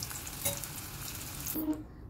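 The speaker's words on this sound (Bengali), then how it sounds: "বাকি যে কটা রয়েছে সেগুলোও আমি ভেজে নেব" Raw banana slices fry in oil with a continuous close crackling sizzle and a light stir or clink near the end, alone without voices.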